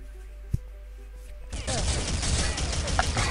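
Burst of gunfire during a competitive Clanbase NationsCup quarter-final video game match between Australia and Portugal, a sudden dense volley kicking in partway through after a quiet stretch with one earlier sharp shot, loud and close.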